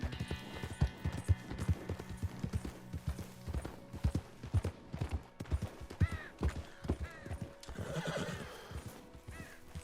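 A horse in Red Dead Redemption 2 clip-clops along in a steady rhythm of close hoof strikes, with whinnies and snorts breaking in near the end.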